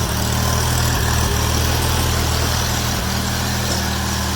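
A 1948 Farmall Cub tractor engine running after repair, still burning off oil in the cylinders, gives a loud, steady, close rumbling idle with a low throbbing pulse and no voices.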